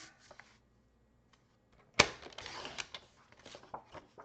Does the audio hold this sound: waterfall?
no